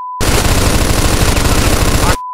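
Sustained automatic gunfire in the Mafia 2 video game, a loud, dense rapid burst of shots running for about two seconds without a break, heard alone with no talk over it.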